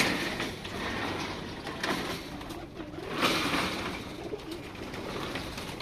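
A Double Lalpari pigeon from Oman coos softly, with low rolling calls against a busy background hiss and some handling noise nearby.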